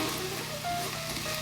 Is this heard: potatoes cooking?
yes